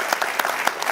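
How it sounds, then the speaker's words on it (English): A short burst of steady audience applause closing a healthcare panel discussion, with the crowd clapping continuously and evenly throughout. "Maybe one last round of applause."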